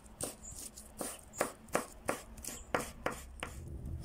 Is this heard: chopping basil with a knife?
yes